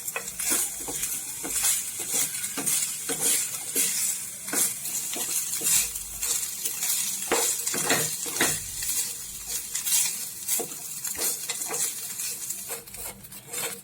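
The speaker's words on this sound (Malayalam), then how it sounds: "വേവിച്ച് നമ്മൾ ചെറിയ പീസാക്കി വെച്ചിരിക്കുന്ന ചിക്കൻ ചേർത്ത് വറുത്തെടുക്കാം." Small pieces of pre-cooked chicken frying in a pan, a steady sizzle underneath repeated scraping and stirring strokes of a utensil against the pan, close and continuous, with no talking.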